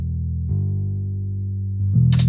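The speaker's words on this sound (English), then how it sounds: "It's just the stock bass preset in Contact" A plain, steady synth bass holding low sustained notes with a simple stepwise change, ending with a brief bright burst at the top.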